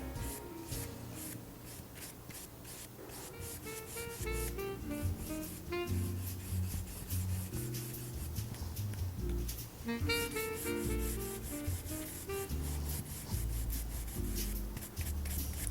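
Cloth rubbing excess patina off a wooden nautical-themed mosaic, a steady close scrubbing swish in quick repeated strokes under background music, with no talking.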